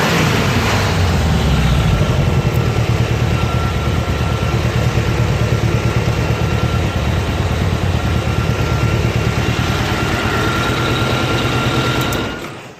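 A 1986 Honda Goldwing GL1200 motorcycle engine idles steadily and loudly up close, a continuous low rumbling putter that cuts off abruptly at the end.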